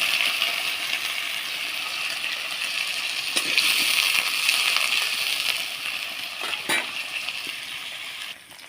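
Potato pieces hit hot oil in a pan and sizzle loudly in a steady hiss, with a few sharp clinks and stirring knocks near the end and no talk.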